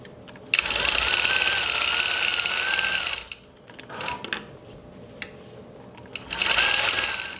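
A longarm quilting machine stitches a quilt binding, its motor humming in a loud, steady drone for a few seconds, pausing amid clicks and handling of the quilt, then starting up again close by.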